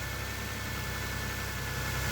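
A Toyota engine idling while it warms up, a faint, steady low hum with constant mechanical drone and no change in speed, heard alone without talk.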